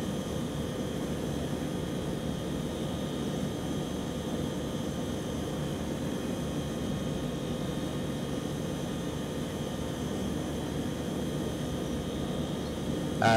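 Steady drone of Hawker Siddeley 748 turboprop engines in a flight simulator, a constant broadband hum with faint tonal whine, unbroken and even throughout.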